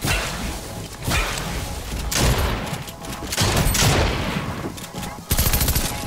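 Gunfire in Fortnite, heard as dense, loud bursts of rapid shots that come in waves across the whole stretch, with sharp cracks and whooshing sounds close to the listener.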